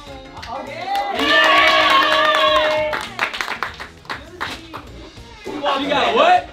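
Classroom clapping and cheering for a student named Juicy, a lively burst of claps and whoops from the group lasting a couple of seconds, then scattered voices and chatter, with another short cheer near the end.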